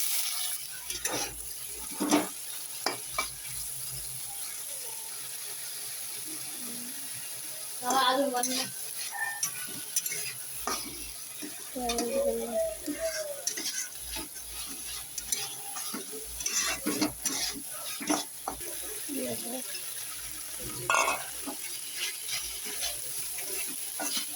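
Potatoes frying in a hot pan for Odia aloo bhaja, with a steady sizzle under repeated scraping stirs and scattered clatters throughout.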